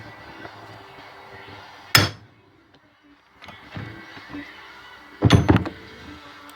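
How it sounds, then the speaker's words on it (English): Two sharp metallic strikes of a hammer on a punch while removing a Poulan chainsaw clutch, one early and a heavier cluster later, with quiet rustling and handling noise between them. "And my favorite tool, Mr. Hammer."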